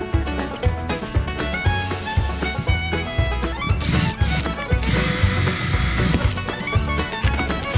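Repeated bursts of a power drill whining and grinding as a screw is used like a drill bit to clear a clogged screw head, with rhythmic mechanical chatter and a sustained higher-pitched spin near the end.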